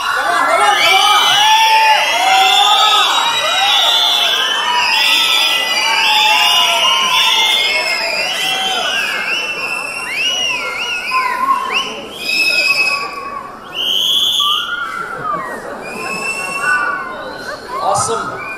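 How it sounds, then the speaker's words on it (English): Audience at a school annual day whistling and cheering loudly, with crowd noise and shouting children filling the hall throughout. "Thank you to all the guys who whistled"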